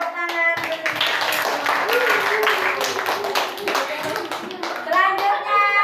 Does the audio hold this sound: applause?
yes